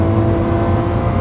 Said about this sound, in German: Wenn die 12 Zylinder greifen und wir sagen, jetzt wird Gas gegeben, Leute, das ist ein Inferno hinter mir